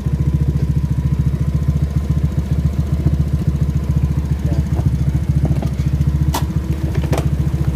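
A Honda Beat ESP scooter with an intermittent ignition fault runs at a steady, close idle, its engine thumping in an even rapid rhythm, with a few light clicks and taps from the workshop late on.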